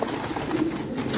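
A pet pigeon cooing close by, a soft low burbling throat sound that wavers steadily without a break.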